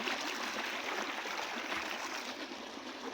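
Irrigation water gushing from a pipe into a castor field, a steady broadband rush and gurgle that runs unbroken and fairly close, with no voices.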